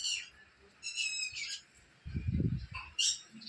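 Sparrows chirp near a nest at a village house, with short bright calls coming in bursts, fairly faint against quiet surroundings and a low rumble partway through.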